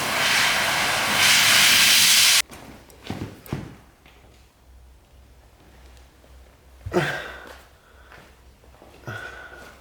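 A gas burner heating metal roars with a loud, steady hiss for about two seconds and then cuts off, leaving only scattered clanks and knocks from the workshop afterward.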